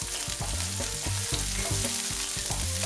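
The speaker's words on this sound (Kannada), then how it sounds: "ಇದನ್ನು ಸಹ ಈರುಳ್ಳಿ ಒಟ್ಟಿಗೆ ಫ್ರೈ ಮಾಡ್ಕೊಳ್ಳಿ" Green chillies and onions frying together in a pan for squid sukka, a loud, dense close sizzle with rhythmic spatula knocks and scrapes and no voices.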